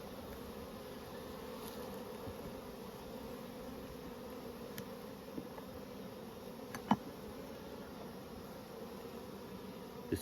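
Honey bees hum in an open queenless hive, a steady close drone with soft rustling and an occasional louder single bee passing by, with no talking.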